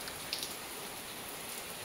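Light rain still falling in a village after half an hour of heavy rain, a steady soft hiss of drops on surfaces, faint and even, with no voices.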